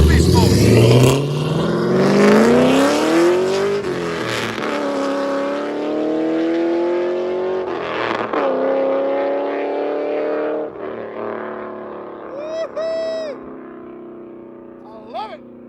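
A 2012 Chevy Camaro LSX with long tube headers, high flow cats, X-pipe, Corvette tips and straight pipes revs hard, its loud exhaust roar climbing in pitch and then settling back to a rumbling idle with a few blips.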